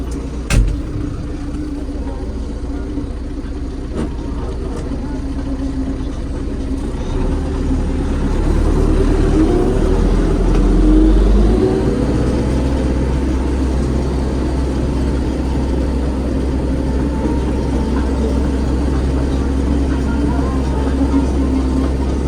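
An MTZ tractor engine runs during wheat sowing in the field. It gives a loud, continuous low drone that swells slightly in the middle and carries on steadily to the end.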